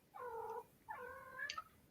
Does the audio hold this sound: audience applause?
no